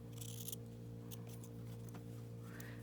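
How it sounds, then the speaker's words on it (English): Scissors snip the selvage off quilting fabric, giving a short crisp cut followed by a few lighter snips over a steady low hum. "you always cut off your selvage"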